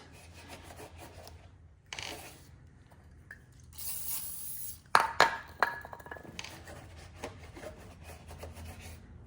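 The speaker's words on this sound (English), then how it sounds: "It'll bring back plastic coloring some if you rub it on the plastics." Rubbing WD-40 onto the plastic parts of a lawn mower gives a scratchy, uneven rubbing sound with a few sharper clacks and squeaks in the middle, close by and with nobody speaking.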